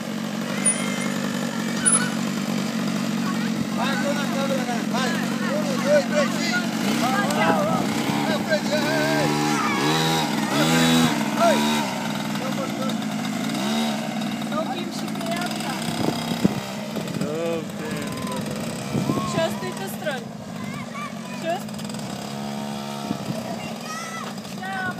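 A small Aramis moped engine runs steadily throughout a family ride, its buzzing drone with rising and falling revs heard under continuous conversation in another language.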